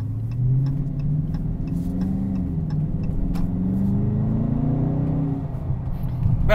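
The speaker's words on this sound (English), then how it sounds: "Oh, I love the sound of this car." A 2022 Dodge Charger R/T engine rumbles steadily with a deep, continuous drone, rising and falling gently in pitch as if under light throttle, close and fairly loud with no talking.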